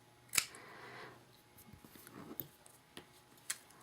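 Scissors trim paper in a few quick, quiet snips: one sharp cut early, then scattered softer snips and light rustling, close up in a quiet room with no talk.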